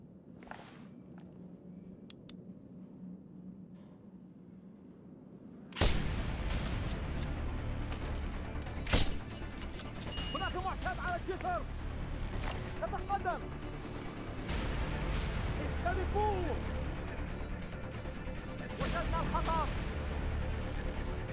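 A sniper rifle shot in Sniper Ghost Warrior 2 breaks a quiet, ambient passage with a sudden loud crack, followed by another sharp report and ongoing combat noise, with spoken voices and radio chatter over it.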